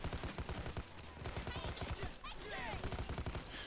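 Rapid automatic rifle gunfire in the video game Payday 2, dense repeated bursts with brief gaps, loud and continuous, alongside game effects and a voice speaking over it.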